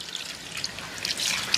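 A small splash of water goes into a curry in a rustic hut kitchen, a brief, soft trickle with light dripping, close and faint.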